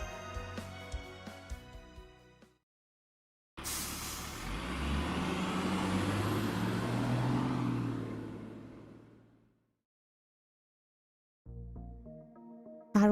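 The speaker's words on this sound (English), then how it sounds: "I feel like we've been on this bus for way too long." A large bus engine rumbles and hums in stalled traffic in the Fate/Grand Order game, a sustained roar of several seconds framed by brief musical passages and silences.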